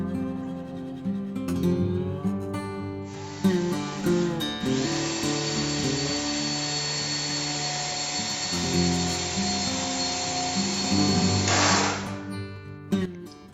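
A power drill whines steadily while driving screws into wooden boards for a tatami-style platform bed, a sustained buzzing motor with brief pauses and restarts near the start and end.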